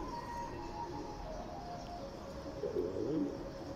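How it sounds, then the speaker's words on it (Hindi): Domestic pigeons cooing faintly in a noisy outdoor spot, soft low coos rising briefly toward the end amid steady background hum. "ए कबूतर वेख लो माशाल्लाह, देसी कबूतर भाई जान"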